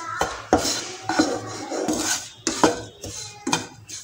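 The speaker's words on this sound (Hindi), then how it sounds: "इस मसाले के साथ ही बेसन को भी भून लेंगे" Gram flour roasted with masala in a pan over a slow flame, heard as repeated metallic clinks and scrapes of a spoon against the pan, close and fairly loud in irregular strokes.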